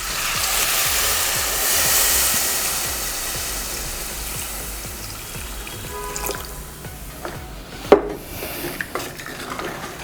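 Water pours into a pot of Hyderabadi-style mutton marag as a broad, rushing splash that fades over a few seconds, followed by light drips and a few clinks of cookware.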